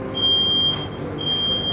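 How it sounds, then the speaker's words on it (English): Alarms going off inside a Dean and DeLuca food shop: a piercing steady electronic tone that cuts out briefly and resumes over a busy room hum. "So we've got alarms going off here at Dean and DeLuca."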